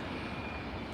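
An Air Canada airliner taxiing onto its stand at Edinburgh Airport on a foggy morning, a steady, even jet engine roar holding without change throughout.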